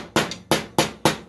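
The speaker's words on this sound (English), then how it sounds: "I'll just gently tap around the bearing just to get it started." A hammer taps a wheel bearing into the steering knuckle of a Hisun/Massimo 700 UTV: four sharp metallic strikes at an even, unhurried pace. Each hit is close and ringing, with no talking.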